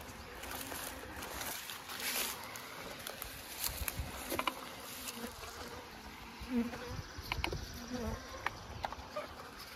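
Steady buzzing of many honey bees close by at a Layens hive, a dense continuous drone with occasional louder passes as individual insects fly near.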